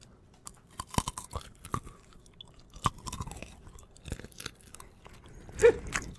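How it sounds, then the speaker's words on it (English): Close-up chewing and crunching of food, with uneven bites and wet mastication sounds spread across the stretch and a louder crunch near the end, no talk over it. "Sorry about the chewing."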